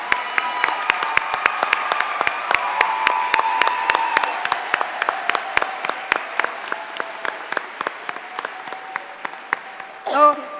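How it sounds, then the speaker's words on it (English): An audience claps steadily in a large hall at a school district recognition night, honoring volunteers with a long round of dense, sharp applause that fades toward the end, with a brief louder burst at the close. "Let's give another round of applause for our volunteers."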